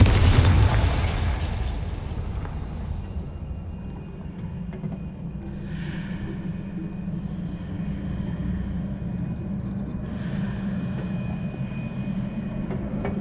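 A Confringo blasting spell explodes in Hogwarts Legacy, a loud burst that fades into a lingering low rumble and hiss, with a couple of fainter bright flares afterward.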